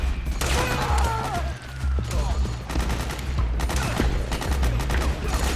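Rapid gunfire in Metal Gear Solid 4, dense bursts of automatic shots over a steady low rumble, loud and close with brief gaps between volleys.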